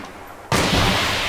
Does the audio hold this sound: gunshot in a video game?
yes